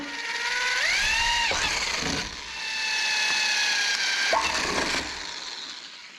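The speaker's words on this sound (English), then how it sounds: "So I've got to drill these 3 holes on the corners." A power drill bores holes in the body of an FJ Cruiser to mount tail lights, whining up to speed and running close and loud in two bursts with a short pause between.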